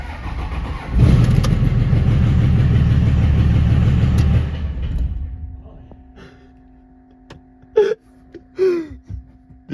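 A cheap Cummins diesel engine cranks and fires up for the first time, loud and rough for about four seconds before dying away, followed by voices and brief clatter.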